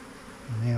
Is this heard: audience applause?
no